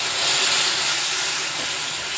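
Chilli powder masala frying in hot oil for dhaba-style butter chicken, a steady close sizzle and hiss that carries on evenly throughout with no talking.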